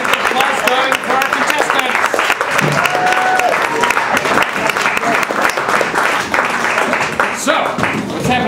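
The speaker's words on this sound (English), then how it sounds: "let's keep the applause going for our" Loud, sustained audience applause and clapping for contestants at a live judged competition show, dense and continuous throughout with a crowd cheering.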